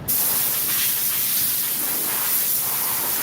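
A steady, loud spray hiss, continuous and close, lasting the whole moment without talk, as a spray is applied to a sample before heating.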